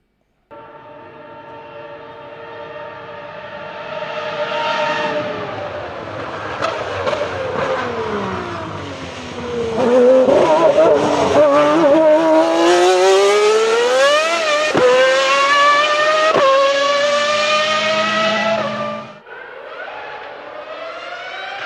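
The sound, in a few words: Ferrari 3.0 litre F1 engine racing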